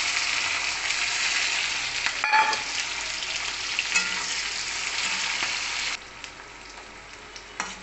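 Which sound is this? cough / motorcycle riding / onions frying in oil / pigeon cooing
onions frying in oil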